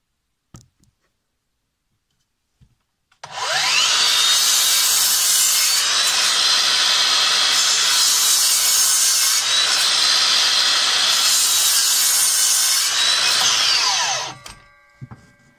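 Makita 18V x2 LXT brushless miter saw (DLS111) making three cuts through a 2x4 with a dust bag fitted, a loud continuous high whine with two brief dips, then spinning down to quiet.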